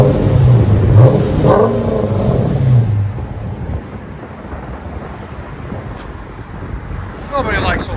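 A Dodge Challenger R/T with a 5.7L HEMI V8 and Flowmaster FX exhaust gives a couple of deep, throaty revs before settling into a rumbling idle, heard outdoors with wind buffeting the microphone.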